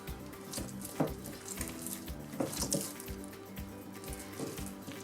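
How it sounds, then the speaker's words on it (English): Water poured into a homemade pizza dough mix, an irregular run of wet splashes and trickles with a few louder slaps, close up and with no talking. "I'm going to add the remainder of my water."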